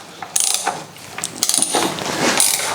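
Ratchet wrench on a long extension bar turning a nut on a 1966 Lambretta scooter, a close, loud run of quick clicking pawl ratchets in several bursts.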